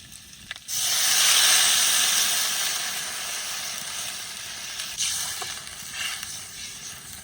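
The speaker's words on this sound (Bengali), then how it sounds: "এবার জল দিয়ে দেবো" Water poured into a hot pan of village-style fish curry with ginger bursts into a loud, close hiss and sizzle that swells at once, then settles into a steady bubbling fizz with a few flare-ups.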